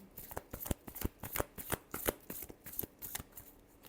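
Tarot cards being shuffled close by, a rapid run of crisp riffling flicks and slaps in an irregular rhythm, quiet and alone with no talking.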